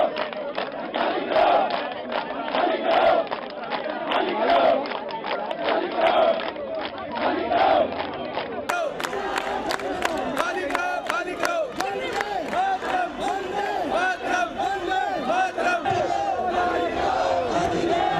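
A dense crowd of protesters carrying tricolour flags chants slogans at the Singhu border, rhythmic shouted phrases repeating loudly with crowd noise beneath, the chanting continuing and growing busier throughout.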